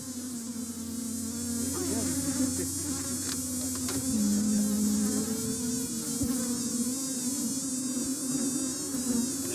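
Bees swarm around an open hive box, filling the air with a loud, continuous buzz close to the listener, with individual wingbeats rising and falling against the dense drone.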